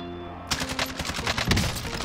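Rapid automatic gunfire from the shooter game Warzone during a killcam replay, a dense stream of shots that starts abruptly and keeps going, with a louder burst near the end.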